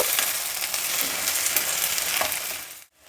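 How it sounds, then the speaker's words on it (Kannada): Flat beans frying in a shallow tempering of hot oil give a steady, close, loud sizzle with faint stirring scrapes, ending abruptly in near silence. "ಸ್ವಲ್ಪ ಎಣ್ಣೆಯಲ್ಲಿ ಒಗ್ಗರಣೆಯಲ್ಲಿ ತೆಪ್ಪದವರೆಕಾಯಿ ಹಾಕಿದ್ಮೇಲೆ ಒಂದು ಐದು ನಿಮಿಷ ಹುರಿಬೇಕು"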